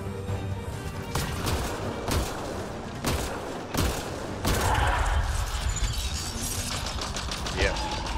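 Heavy cannon fire in Mass Effect Andromeda during a hardcore boss fight, with a steady series of loud, sharp booming shots roughly every second over dense combat noise.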